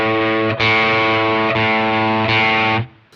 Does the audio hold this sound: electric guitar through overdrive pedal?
yes